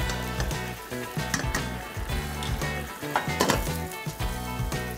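Vermicelli and rice fry in a pan on a kitchen stove with a steady, loud sizzle, joined by scraping stirs and light clinks of a utensil against the pot, with no voices.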